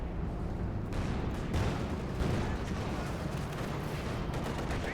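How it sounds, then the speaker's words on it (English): Battle in Company of Heroes 2 with mortars firing, a dense, continuous barrage of booms and gunfire blending into a loud wall of combat noise. "Mortar, they're still firing away here for Borobadger."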